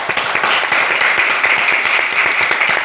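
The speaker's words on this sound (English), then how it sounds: "let's round of applause for the next founder up." A startup pitch event audience applauds for the next founder: a steady, fairly loud patter of many hands clapping, continuous throughout.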